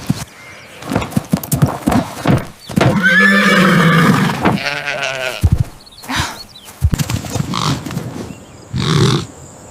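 A white horse neighs and whinnies in several loud, close bursts, with shorter snorts and calls between them and no talking over them.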